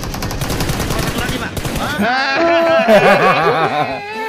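Rapid bursts of automatic gunfire in PUBG Mobile, close and loud, stuttering in quick repeated shots for the first couple of seconds before voices talk and laugh over the remaining stretch.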